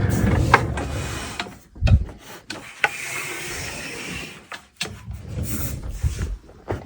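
A vintage stereo amplifier is turned around by hand, giving close scraping, rubbing and wooden knocks with a few sharp bumps. It is uneven and fairly quiet, with no talking.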